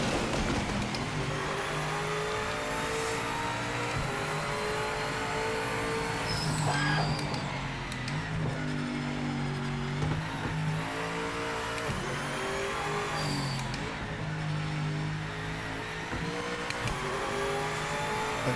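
BMW M8 GTE race car lapping the Nurburgring in the Project Motor Racing video game, its engine revving and surging through repeated gear changes with rising and falling pitch, loud and continuous, without talk.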